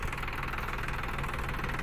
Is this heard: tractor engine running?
yes